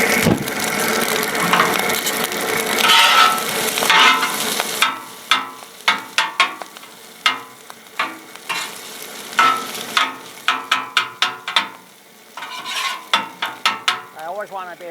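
Small bits of food popping and crackling in hot oil on a Blackstone griddle while red shrimp, rice, snow peas, ginger and water chestnuts cook, with a dense sizzle at first giving way to a run of sharp, separate pops and clicks close by.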